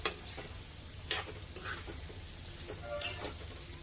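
Spices tempering in hot oil in a home kitchen give a soft, low sizzle, with a few sharper stirring scrapes and spatters scattered through the short, quiet stretch.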